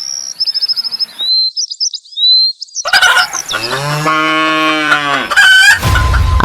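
Cartoon farmyard chickens in a Bangla animated moral story, rendered as bright chirps, squawks and stylised clucks, followed by a loud sustained animal call with strong harmonics, all without speech.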